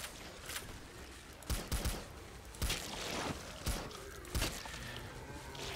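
Gunfire in the video game Killing Floor, several sharp shots in quick clusters over a dense rumbling background of game noise, with no talking.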